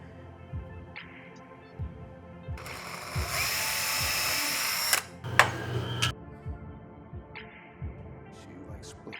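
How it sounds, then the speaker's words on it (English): A power drill bores screw holes into a walnut and plywood pedal board in a workshop, with two sustained loud bursts of whirring drilling set against quieter ticking and handling noises. "Push that down, drill that hole."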